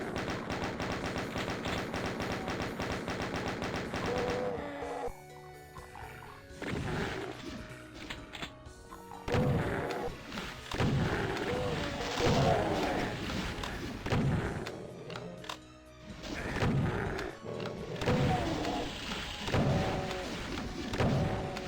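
Rocket launcher blasts and explosions in a Doom map from Eviternity II, heavy booming thuds and crashes arriving in irregular bursts, loud and close, with short quieter gaps between volleys.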